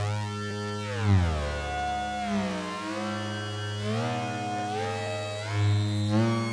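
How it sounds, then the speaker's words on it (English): A Modal Cobalt5S synthesizer delay, held frozen with the XYZ pad, gives layered harmonic tones that glide up and down in slow, warbling sweeps, steady and fairly loud, with no talking. "you push down on Z, and what it does is it slows the LFO down to 0, and the LFO is moving the time of the delay"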